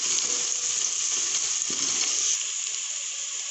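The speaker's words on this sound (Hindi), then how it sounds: "हमारा अदरक लहसुन पेस्ट फ्राई हो चुका है।" Steady, dense sizzling of ginger garlic paste frying in a hot pan, loud and continuous throughout with no talking.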